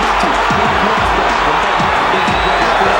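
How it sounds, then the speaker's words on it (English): A boxing arena crowd roaring steadily at a Roy Jones Jr. fight, a dense loud wall of cheering with a commentator talking over it. "this crowd rises to its feet and looks for the first round knockout"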